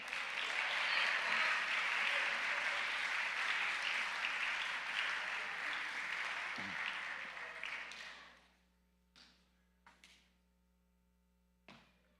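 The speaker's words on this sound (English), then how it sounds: "Now you may have a round of applause." Audience applause at a school convocation, a dense sustained round of clapping filling the room for about eight seconds before stopping abruptly, followed by a few scattered faint taps and knocks over a low steady hum.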